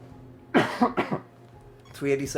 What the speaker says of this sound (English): apologies for all the coughing. I just have a lingering cough